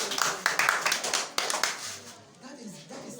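Scattered audience clapping bursts out during a lecture on dyslexia, sharp uneven claps for about two seconds that thin out and fade, with a speaking voice running underneath.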